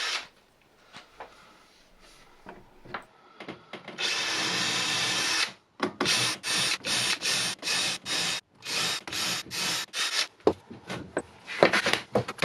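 A drill bores rows of pinholes in wooden shelf sides in short, repeated bursts. Each burst is a whirring buzz with brief pauses between holes, after quiet scraping and handling at the start.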